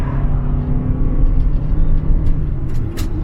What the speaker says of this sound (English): So when you step out on the road and you put your foot down